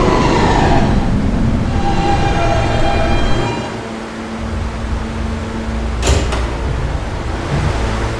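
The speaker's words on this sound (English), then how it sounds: "This is a Catlin bound E train." An R160B Siemens E subway train in a Roblox game runs with a steady loud rumble and whine, easing slightly midway before a brief clank and continuing on.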